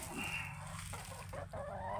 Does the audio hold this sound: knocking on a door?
no